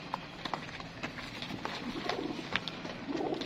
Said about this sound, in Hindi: अच्छा क्या कबूतर है